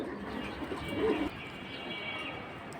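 A single soft cooing call from a male flying pigeon sounds close by, over a quiet background hum.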